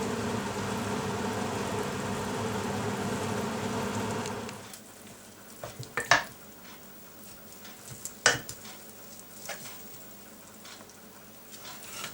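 Omelette filling fries on a home cooker, a dense, loud sizzle for the first few seconds, then dropping to a quieter crackle broken by a couple of sharp clatters.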